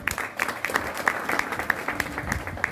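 Audience applause at an RCM business gathering, a steady patter of many hands with scattered sharper claps, moderately loud and sustained throughout without talk.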